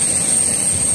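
A jet airliner's engines during boarding give a steady, loud, close roar with a thin high whine running through it.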